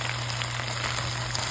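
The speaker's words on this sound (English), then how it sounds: "You hear it sizzling in the background?" Potatoes sizzle in a pot as they fry for jajangmyeon, a soft, steady crackle under a constant low hum, with no talking.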